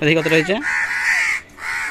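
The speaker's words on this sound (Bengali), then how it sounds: "আবার কাক ডাকছে দেখো, একটা গাছে" A crow caws a few times nearby, harsh drawn-out calls in quick succession following a brief stretch of talking.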